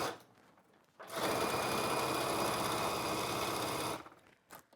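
A sewing machine stitches steadily around a fabric hot pad, its fast, even mechanical whir running close and alone for about three seconds between quiet pauses.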